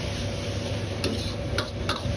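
Bok choy and glass noodles are stir-fried in a wok over high heat, with a constant close sizzle and a few sharp scraping ticks from the spatula.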